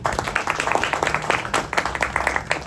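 A small audience claps through the clip, scattered distinct hand claps in an uneven rhythm, fairly close and moderately loud.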